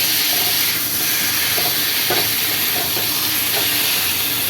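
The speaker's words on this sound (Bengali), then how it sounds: "এবারে আমি কচুর শাকটা ঢেলে দেবো। দিয়ে একটু নাড়াচাড়া ভালো করে একটু নাড়তে হবে" Taro leaves tipped into a pan of fried onion and garlic and stirred, giving a steady, loud steamy hiss and sizzle with a few soft scraping strokes scattered through.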